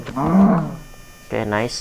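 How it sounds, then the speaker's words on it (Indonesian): A cow in the Minecraft video game gives two drawn-out, low moos, one after the other, as a person speaks a few words briefly. "Oke, di sini ada sapi lagi, kita sembelih lagi aja."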